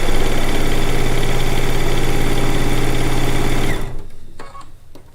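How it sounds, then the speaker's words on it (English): A sewing machine stay-stitches the edges of a log cabin quilt top, running loud and steady for nearly four seconds before stopping, followed by a few faint clicks. "to stay stitch all the edges so that when it's being quilted"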